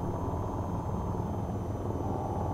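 Attack helicopter in the VTOL VR game, an AH-94, heard as a steady, loud low-frequency rotor and engine drone that fills the whole stretch without letting up, with no talking over it.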